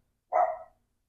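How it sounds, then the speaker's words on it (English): A single short bark from dogs outside, heard at a distance, brief and moderately loud against an otherwise quiet background. "I'm sure you can hear the dogs barking now that they're outside."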